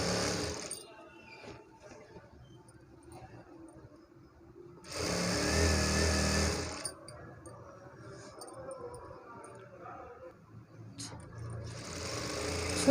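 A sewing machine stitches a lehenga in a short loud burst mid-clip, with fainter machine running and handling noise around it and a brief second burst near the end.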